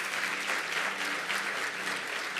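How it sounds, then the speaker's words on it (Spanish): A church congregation claps together during a Sunday service, producing a steady, even wash of applause that stays constant at moderate distance for the whole stretch. "Dar un fuerte aplauso al Señor."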